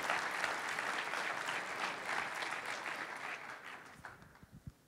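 A conference opening audience applauds, a broad, dense wash of many hands clapping that holds steady and then thins out, with a few scattered final claps and no talking.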